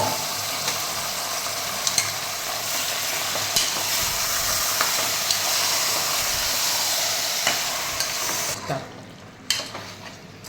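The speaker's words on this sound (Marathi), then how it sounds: "आता आपण ह्यामध्ये मॅरिनेट केलेला मटण घालून मिक्स करून घेऊया." Marinated mutton stirred into fried onions in a hot pan, giving a steady close sizzle and frying hiss with occasional scraping of the spoon, continuous throughout with a brief drop near the end.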